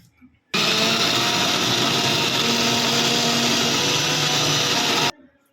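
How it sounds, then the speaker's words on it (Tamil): A mixer grinder grinds chutney with a little water, whirring loudly and steadily for about four and a half seconds, starting and stopping abruptly, with faint quiet before and after. "கொஞ்சம் தண்ணி விட்டு இதை நைஸாக அரைச்சி"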